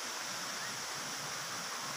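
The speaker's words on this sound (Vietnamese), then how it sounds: "là một dòng suối trong khu du lịch" A stream in an eco-tourism park in Đồng Nai, Vietnam, rushes steadily with a broad, even wash of flowing water, continuous and fairly close, with no voices over it.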